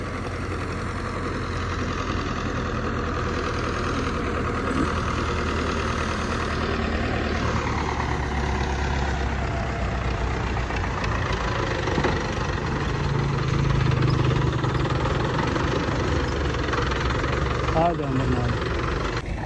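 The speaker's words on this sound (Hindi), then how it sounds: "ये आया जी ट्रैक्टर स्टार्ट करने लगा है" A tractor engine starts and settles into a steady, loud idle that runs on throughout, with people talking over it outdoors in a village.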